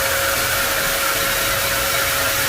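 A blower runs steadily and loudly throughout, a continuous broadband rushing with a faint whine, used while working on a car engine during an oil check.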